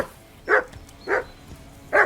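A dog barking in the video game Kingdom Come: Deliverance II, three evenly spaced, moderately loud woofs close by with quiet gaps between them.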